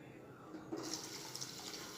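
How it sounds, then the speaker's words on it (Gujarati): Water is poured into rajma masala gravy in a home kitchen, a soft close splashing and trickling that swells in the second half and stays fairly quiet. "હવે એમાં આપણે પાણી એડ કરીશું"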